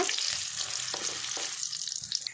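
Chicken curry ingredients fry in oil in a pan over a slow flame, giving a close, steady, gentle sizzle with a few soft stirring scrapes and no talking.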